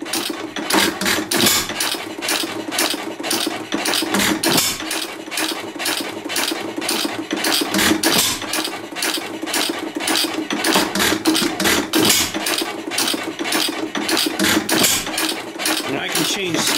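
A small single-cylinder test engine runs on its stand, a rapid, even stream of sharp clattering firing beats with mechanical ticking, close and steady throughout, while someone talks over it now and then.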